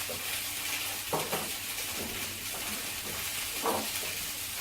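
Mustard being mixed into a batter for toad in the hole, soft wet stirring with a few louder scraping swishes against the bowl, fairly quiet and close.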